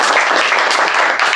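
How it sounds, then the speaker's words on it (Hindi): Students at a repair course session at a technical institute break into a brief, loud round of close applause, with sharp individual claps standing out from the crowd. "तो एक बार जोरदार तालियां हो जाए"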